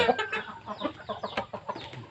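Chickens cluck repeatedly in short, overlapping bursts at close range while eating feed of ground Napier grass mixed with concentrate, with a steady farmyard background.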